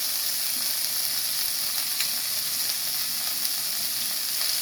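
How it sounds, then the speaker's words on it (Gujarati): Coriander, tomato, garlic and onion sauté in a hot pan with a steady, close sizzle that holds evenly throughout, with small pops scattered through it and no talking. "બધું મિક્સ કરી દઈશું. અને સોટે થવા દઈશું."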